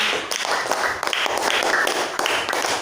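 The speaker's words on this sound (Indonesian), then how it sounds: "Tepuk tangan dulu untuk kelompok 5." A class clapping together for a student group, a steady, dense patter of applause that carries on throughout.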